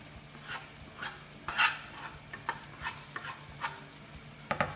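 A spoon stirs vegetable ragout with garlic in a pan, giving soft rhythmic scrapes and clinks roughly every half second over a quiet sizzle, close and fairly faint, with no one speaking.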